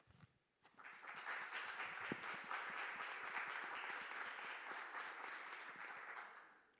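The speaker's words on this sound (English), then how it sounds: "Waiting for the applause to end." Sustained audience applause at an evening storytelling panel on a performing arts stage, a dense wash of many hands clapping that swells quickly, holds steady for several seconds, then fades near the end.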